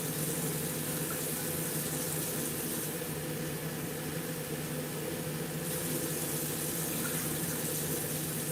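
Tap water runs steadily into a cooking pot, a continuous broadband rush lasting the whole stretch with no voices over it.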